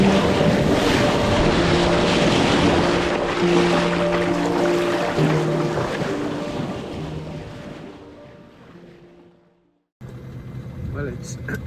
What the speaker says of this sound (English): so you can probably hear the engine in the background.